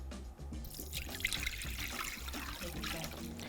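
Cool Lime drink being poured into a cup, a steady close trickle of liquid running for several seconds with a soft continuous splash and no talk.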